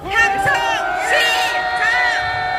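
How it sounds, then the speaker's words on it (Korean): A large street crowd at a March 1st independence rally roars and shouts together toward the Foreign Ministry, with sustained loud overlapping voices and rising whoops. "외교부를 바라보고 함성을 질러주십시오"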